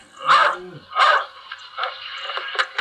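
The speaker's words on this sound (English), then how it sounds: "And my doggies are barking." Dogs barking at home, two loud, close barks followed by softer, shorter yips and whines.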